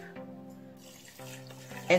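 Water pours into a pot of spinach vegetable soup, a quiet splashing trickle with faint tonal hum in the background, growing briefly louder at the end.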